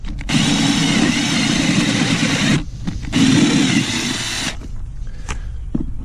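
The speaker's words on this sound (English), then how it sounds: "we're just going to go ahead and drill a hole right through this 2-inch one right here" A power drill bores through a 2-inch wooden board for a sump pump riser, two loud sustained whining bursts with a short pause between them, close by, then quieter handling noise, with no talk.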